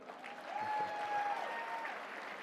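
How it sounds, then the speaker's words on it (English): An audience in a conference hall applauds, steady clapping at moderate, slightly distant level that swells briefly and holds through the short stretch. "Give yourselves a round of applause for waking up this early."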